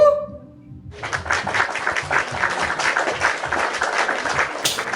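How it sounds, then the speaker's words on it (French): A live audience breaks into applause after a short tone, and dense, steady clapping holds for the rest of the moment. "On va encore applaudir"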